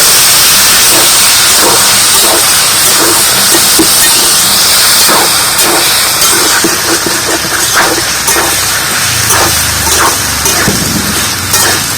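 Potato boiling water poured into hot oil for a vegetarian cauliflower kalia, bursting into a loud, steady sizzle and hiss with scattered crackling pops throughout, close and continuous.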